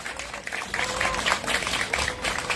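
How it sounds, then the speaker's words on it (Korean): Continued clapping from a congregation at a church memorial prayer service for Jeon Tae-il, a fairly soft, steady patter of many hands lasting the whole moment. "저희 계속되는 박수로 영대의 마음 모으겠습니다"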